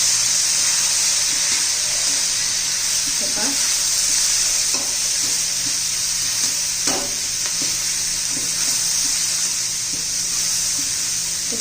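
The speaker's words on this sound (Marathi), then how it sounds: "हे सर्व चांगलं तेलामध्ये परतून घेऊया भाज्यांबरोबर" A steady sizzle of cluster beans and spices frying in oil, with occasional scrapes and clinks of a spoon stirring the pan, close and continuous.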